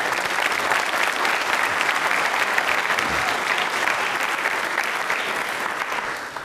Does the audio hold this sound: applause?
yes